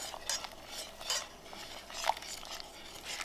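A whisk stirs dark chocolate in a fondue pot, making several rhythmic metallic scraping and clinking strokes that are close and moderately loud, with no speech.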